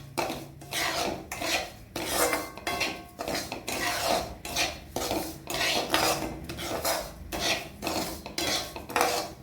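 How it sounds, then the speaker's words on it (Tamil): Wheat rava being sautéed in a pan, a spatula scraping and rasping across the metal in steady repeated strokes, fairly loud and close with no talking. "கொஞ்சம் வாசனை வரும் வரையே இதை வதக்கணும்"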